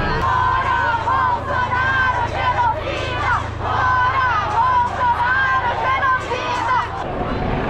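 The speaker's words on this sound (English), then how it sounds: "I'm absolutely burst from the hustle and bustle of the crowd" Crowd hubbub at the COP26 climate summit in Glasgow, a steady, dense babble of many voices with shouts and chatter rising and falling close around, continuous throughout.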